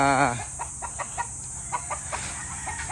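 Gamefowl roosters, broodcocks and brood stags tethered outdoors in the rain under an improvised teepee shelter, giving scattered soft clucks over steady rain noise, with one louder call at the start.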